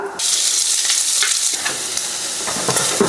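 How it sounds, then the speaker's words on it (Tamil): Onions, a mix of large and small ones, dropped into hot oil in a pan for a goat blood fry; an abrupt loud sizzle bursts in and holds steady, with light stirring scrapes on top. "அடுத்து வெங்காயம் போட்டுக்கலாங்க."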